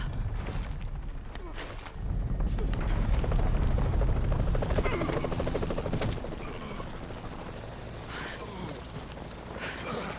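Helicopter in the video game Shadow of the Tomb Raider, a loud continuous rotor drone with mechanical rumble and clatter throughout, swelling in the middle, no speech.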